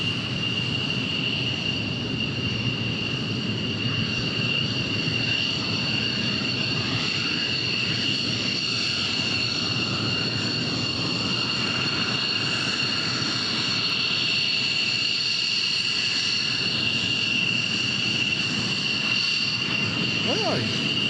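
A distant plane at Tucson International Airport produces a steady, broad engine roar that holds evenly throughout, with a high whine on top and no distinct approach or fade.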